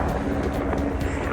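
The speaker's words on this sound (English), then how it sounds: "We got 2 helicopters flying above." Two helicopters flying overhead above a beachfront street in Wildwood, New Jersey, on the day of a political rally, giving a steady, loud, broadband roar with a faint rapid rotor flutter and no talk.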